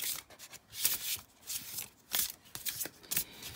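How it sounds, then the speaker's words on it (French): Oracle cards shuffled by hand: a series of soft, close riffling bursts in uneven rhythm, each a brief papery flutter, quiet and alone without talk. "on va quand même battre un petit peu les cartes."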